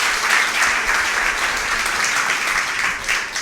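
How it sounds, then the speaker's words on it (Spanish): A church congregation breaks into loud, sustained applause during a sermon, dense, continuous clapping from many hands filling the room for several seconds. "Si usted lo cree, denle un fuerte aplauso al Dios Todopoderoso."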